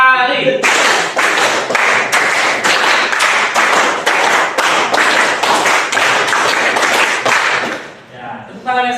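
Children clapping together in a counted rhythm in a classroom, a series of sharp, evenly spaced group claps close by, about fourteen strikes in a steady beat, with brief voices at the start and end.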